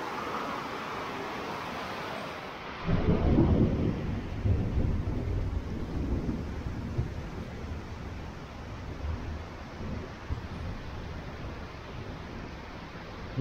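Rain pours down steadily, jumping suddenly louder to a heavy downpour after a few seconds and keeping up a dense hiss with no voices.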